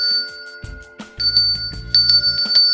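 A SEGS bicycle bell rings loudly and close, several sharp metallic dings in quick succession with bright lingering tones, no voices.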